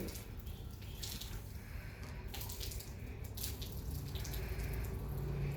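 Water from a school science experiment on pressure runs down steadily, a soft continuous trickle and splash with faint drips, fairly close and with no voices.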